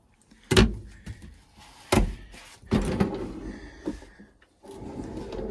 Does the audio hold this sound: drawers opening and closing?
yes